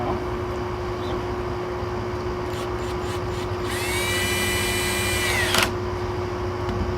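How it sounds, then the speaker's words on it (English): A power drill driving a 1¼ inch exterior wood screw into 3/8 inch OSB board on a chicken coop build, a rising whine under a steady outdoor hum, ending with a brief squeal and clunk as the screw seats. "Put the last screw in here now."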